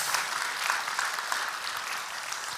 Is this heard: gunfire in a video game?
no